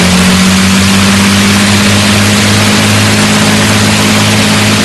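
Four Rolls-Royce Merlin engines of about 1,500 horsepower each on an Avro Lancaster bomber drone loudly and steadily, a dense, unbroken roar with a deep throbbing hum beneath it.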